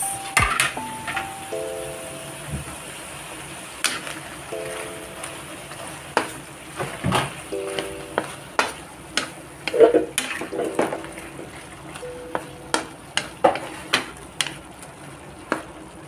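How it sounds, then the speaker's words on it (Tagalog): Sliced patola (sponge gourd) goes into a simmering shrimp dish before the coconut milk; quiet bubbling and soft splashes with a series of sharp clinks and knocks from utensils on the pot, spread over the whole stretch. "So, ilagay na natin ang ating gulay. Ayan ang ating gulay."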